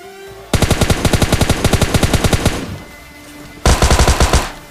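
Gunfire in the PUBG Mobile Lite video game comes as a long burst of rapid, evenly spaced shots, a short pause, then a second burst, all loud and close with no voices.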